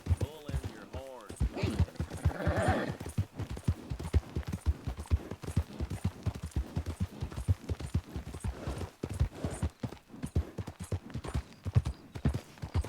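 Rapid, steady hoofbeats of a galloping horse in Red Dead Redemption 2, close and continuous with a brief whinny early on, while someone talks over it.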